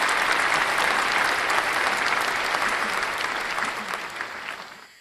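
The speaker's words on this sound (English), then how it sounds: "I guess we have to give a clap for that." Dense applause from a crowd of listeners, steady and loud for about four seconds before tapering off and stopping abruptly near the end.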